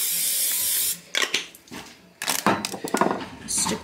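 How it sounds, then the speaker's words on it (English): Food is sprayed before going into an air fryer: one steady hiss of an oil spray can, then several short bursts and faint kitchen clatter, all close and with no talking. "So I'm just gonna actually spray this."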